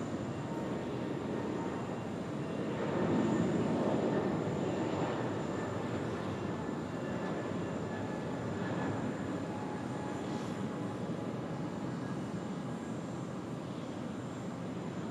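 A China Southern airliner rotates off Sydney's runway 16 right with a slight right bank, its engine roar steady, broad and continuous at a distance, swelling slightly early on before holding level.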